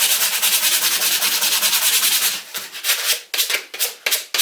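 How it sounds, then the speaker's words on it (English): Sandpaper abrading a plastic VW T4 door handle trim to key it for glue: continuous close, loud rubbing for about two seconds, then a series of choppier, separate scrubbing strokes. "So get right in there and key the plastic up."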